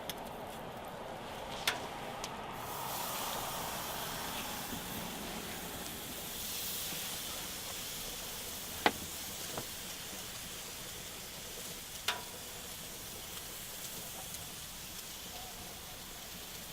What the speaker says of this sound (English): And then we're gonna throw these burgers on.